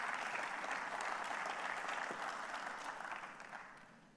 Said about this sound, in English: Should we just pause for a round of applause?